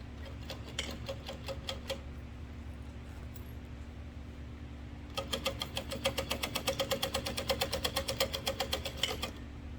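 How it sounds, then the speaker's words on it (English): A sewing machine top stitches 1/8 inch through the seam allowance of a pouch lining. It runs in two bursts of rapid, even needle clicks, a short one and then a longer, steadier run, over a low hum, close and fairly quiet. "we're going to top stitch through our seam allowance lining on the top, 1/8 of an inch."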